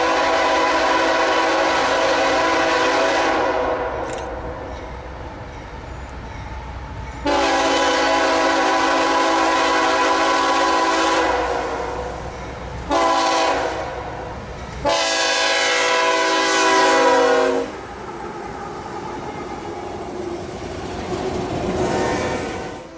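A northbound Autorack freight train, Q220, rolls past in Folkston, Georgia, its loud multi-tone horn sounding in long blasts, short bursts and then a final long blast over the rumble of the train.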